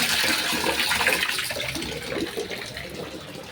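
Tap water gushes steadily from a kitchen faucet, a close, continuous rushing stream with no talk.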